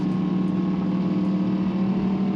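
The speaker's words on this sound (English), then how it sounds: "Still really clear that there's a motorcycle, that there's something nearby" A Ducati Panigale motorcycle with loud exhaust pipes runs nearby, its steady low engine drone and rumble continuous and fairly loud throughout, heard from inside a car with the window down.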